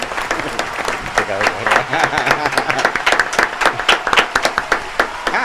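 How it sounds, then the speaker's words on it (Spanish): A studio audience gives standing applause for returning guest Julián Bernat, the clapping sparse and choppy with distinct individual hand claps, while voices talk over it at moments. "Aplauso de pie, de pie. Apláudalo."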